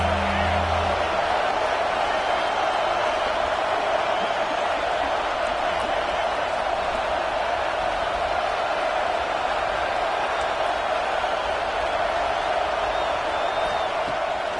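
Home crowd roaring in a Madden football video game, a steady dense wash of cheering and noise held at constant loudness for the whole stretch.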